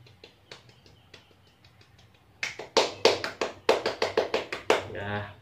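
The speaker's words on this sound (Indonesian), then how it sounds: "kita beri tepuk dulu. Ya Bu ya, tepuk Pancasila" A group of adults claps the rhythmic Pancasila clap: a few soft scattered taps, then a burst of loud, sharp, evenly patterned claps, ending in a short group call.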